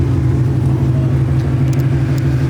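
A car approaches from behind on a road, a steady close engine rumble and tire drone holding level throughout.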